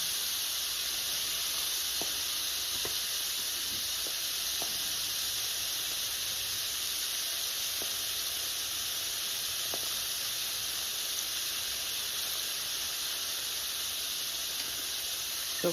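Floured onion petals frying in hot oil fill the scene with a steady, bright hiss and sizzle that never lets up, broken only by a few faint ticks and pops, with no voices.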